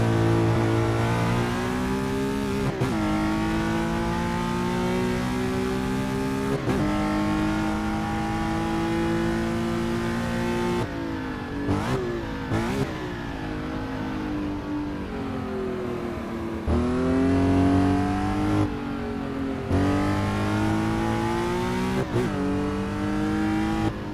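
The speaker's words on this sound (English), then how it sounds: "One of my favorite cars to drive." A Porsche 906E race car drives a lap of the historic Oakes Field circuit in the Bahamas. Its engine is loud and close, rising in pitch through each gear, with brief drops at the shifts and repeated hard revving.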